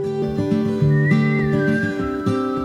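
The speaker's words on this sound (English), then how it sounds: "You don't hear people whistling in songs much, do you?" A melodic whistled tune in a song glides over a soft, steady musical backing, clear and up front, with no voices.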